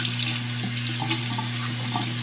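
Steady stream of water runs from a tap into a sink as a child washes hands, a continuous close hiss with low hum underneath and no talk over it.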